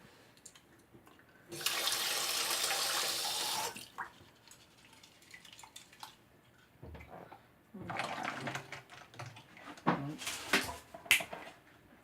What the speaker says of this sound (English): You can just put a little bit of water in it too